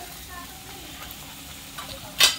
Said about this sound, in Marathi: हे छान आता आपण परतवून घेऊया